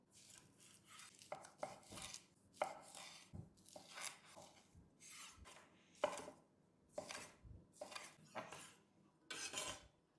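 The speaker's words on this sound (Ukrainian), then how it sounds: "Тепер нарізаємо кубаску таким ж самим кубиком." A knife chops sausage into cubes steadily on a cutting board, sharp taps in an uneven rhythm with brief pauses, close and clear with no talking.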